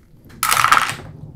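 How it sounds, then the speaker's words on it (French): Five dice rolled together in a tabletop game, a single short rattling clatter that starts abruptly and fades quickly, close and fairly loud. "le bateau lui, il va lancer tous ses dés"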